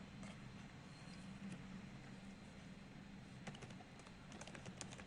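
A C++ program is typed on a computer keyboard as soft, quiet key clicks, scattered early on and turning into a quicker burst near the end over faint room hum.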